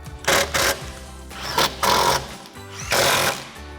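Impact wrench with a 13mm socket tightening strut nuts on a 2012-2019 rear-wheel-drive Dodge Challenger, four loud hammering bursts separated by short pauses.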